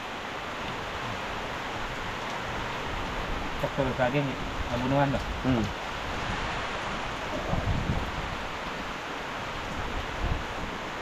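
Steady outdoor rain hissing broadband and continuous throughout, with someone talking briefly over it in the middle.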